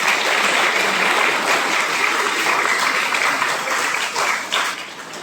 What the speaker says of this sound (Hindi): अतः उन्हें भी हम तालियां बजाकर धन्यवाद देते हैं।